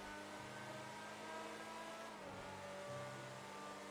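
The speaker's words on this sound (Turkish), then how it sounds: "Araba baya basıyor ya. 170'leri falan görüyor." A car in GTA 5 Online accelerates hard, its engine note climbing steadily and then dropping briefly as it shifts before rising again, a continuous close revving with no talk over it.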